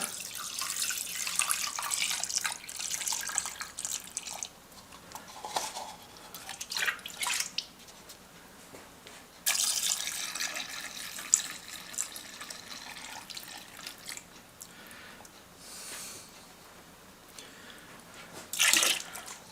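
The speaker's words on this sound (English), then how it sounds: "So let's pour some stuff in here." Liquid poured into a motorcycle part on a 650 scrambler build sealed with duct tape, a steady splashing trickle with drips and shifting gurgles, close and moderately loud, no talking.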